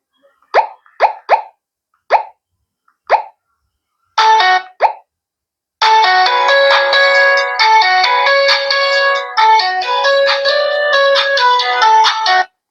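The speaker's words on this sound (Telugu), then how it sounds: "ఒకసారి రింగ్ టోన్ సౌండ్స్ అయితే ఇందులో ప్లే చేసి విందాం" An HMD 110 keypad phone plays its ringtone: several short beeping key tones, then a loud, continuous polyphonic electronic melody up close.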